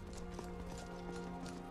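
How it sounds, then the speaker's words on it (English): Horse hooves clop in a quick steady rhythm as a horse follows the player in the video game Skyrim, faint and continuous under low background music. "The horse follows me all over the place, even if I'm in combat."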